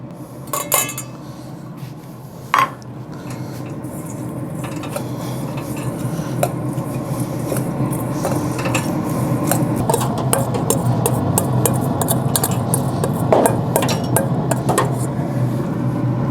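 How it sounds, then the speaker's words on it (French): Softened, creamy butter is worked together with breadcrumbs and parsley by hand with a utensil, giving a steady close soft stirring and scraping with occasional clinks of metal against a bowl, and no talk. "Je vais le mélanger avec ma mie de pain et mon persil."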